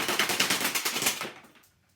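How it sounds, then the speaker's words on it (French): An AK-47 airsoft replica from Saigo Defence fires in full auto, a loud close rapid burst of about a dozen evenly spaced shots that stops after roughly a second and a quarter, leaving a short fading tail. "On passe à du full auto."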